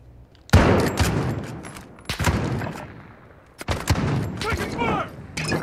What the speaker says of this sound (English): This is not a shotgun, it's a marksman rifle.